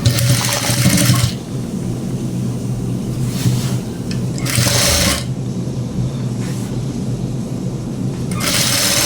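Sewing machine stitching a school uniform coat, heard as three loud whirring bursts separated by pauses filled with low background hum.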